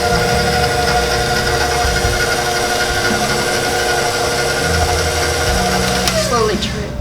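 An electric mixer beats banana bread batter at a higher speed with a loud, steady motor whine and whir. The sound holds almost unchanged for several seconds and then winds down near the end.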